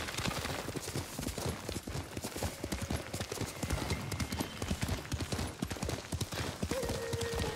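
A horse gallops in Ghost of Tsushima, rapid rhythmic hoofbeats pounding steadily throughout, close and loud, with a brief whinny near the end.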